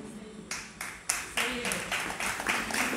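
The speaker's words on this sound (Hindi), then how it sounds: "वहां से ताली बज गई, वहां से ताली बज गई।" An audience at a Hindi religious discourse breaks into rhythmic clapping, a string of sharp, evenly spaced claps that grows a little denser and louder over a few seconds, with a voice faintly beneath.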